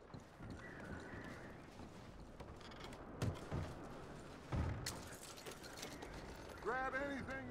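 Horse hooves clop and shuffle nearby amid creaking tack and faint voices, and a horse whinnies near the end, in the video game Red Dead Redemption 2.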